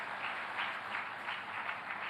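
An audience at an evening speech in Manila's Centennial Hall breaks into steady applause, a soft continuous wash of many hands clapping at moderate distance.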